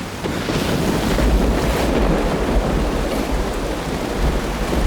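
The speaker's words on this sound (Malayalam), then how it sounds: "നല്ല മഴ." Heavy rain pours down in a dense, unbroken roar that stays loud and steady throughout, with a deep low rumble underneath and no voices.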